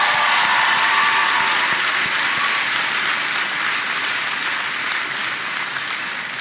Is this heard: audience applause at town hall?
yes